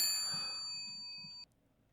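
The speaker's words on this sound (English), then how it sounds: "The phone finds itself ringing." A ringing telephone in a pixel-art point-and-click ghost detective game: a bright, bell-like ding that rings out alone and clear, then cuts off sharply after about a second and a half.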